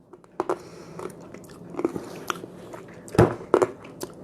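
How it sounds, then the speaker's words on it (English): Close-up crunching and chewing on hard candy, with irregular bites and crackles spread across a few seconds, no talking. "sorry, I'm chewing on a candy"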